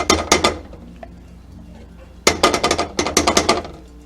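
A metal fork scraping and clinking against a bowl while mixing creamy peanut butter for satay dipping sauce, two clusters of quick rhythmic taps close by, a brief pause between them, no talking.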